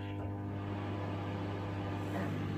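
A steady, low electrical hum from a microwave oven running a 20-minute cooking cycle drones on without change.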